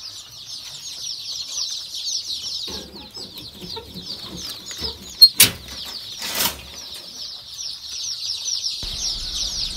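Local chickens clucking softly on a farm, a steady chorus of close, quiet clucks with a couple of sharper squawks and brief wing flaps partway through.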